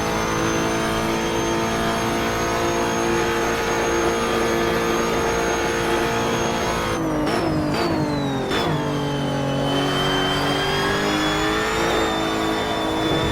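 A Lotus race car engine screams at high revs in the Assetto Corsa racing game, a loud, continuous, close drone with a few quick drops in pitch as it shifts gears near the end.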